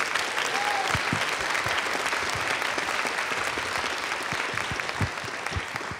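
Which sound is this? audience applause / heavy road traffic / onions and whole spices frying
audience applause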